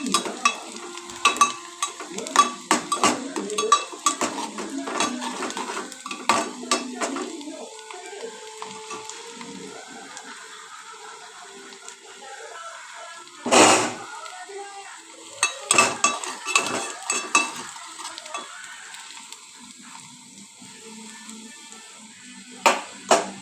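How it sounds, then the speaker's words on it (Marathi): Onion being roasted until red in a pan for a brinjal curry, stirred with scattered scraping clatters over a faint sizzle, a sharp loud scrape midway, and quieter stretches between bursts. "कांदा चांगला भाजून घ्यायचा,"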